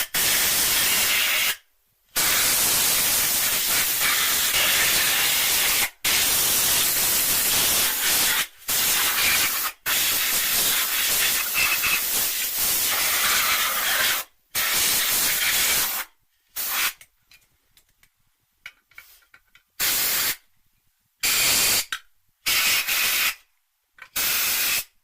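Compressed air blasts at the crankcases of a Honda VFR800Fi motorcycle engine, a loud, close, broadband hiss in long bursts separated by short silences, then shorter choppy spurts near the end.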